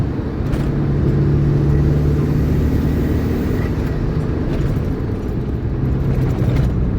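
A turbocharged car engine running at raised boost pressure, a steady loud low rumble held without much change, close to the engine.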